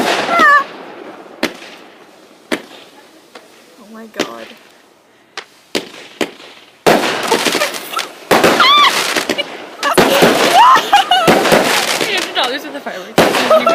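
Professional fireworks exploding close by, heard as sharp separate bangs at first and then a dense, loud barrage of crackling bursts, with startled voices reacting between them.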